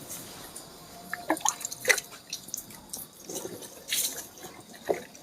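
Water is poured over a deceased person's back during an Islamic funeral washing, making soft, intermittent splashes and drips that run on for several seconds with no talk.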